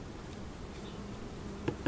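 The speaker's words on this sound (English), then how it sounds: "all these bees that are on here" Honeybees swarm over an open hive box during a honey harvest, giving a steady, soft, continuous buzz with a couple of brief louder clicks near the end.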